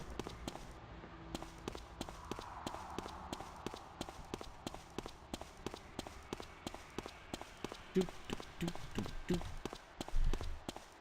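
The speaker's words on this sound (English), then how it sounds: "Footstep sound has always annoyed me in this game" Rapid, regular footsteps from the video game Morrowind patter steadily throughout, sharp taps over a hushed in-game ambience, growing slightly louder and heavier toward the end.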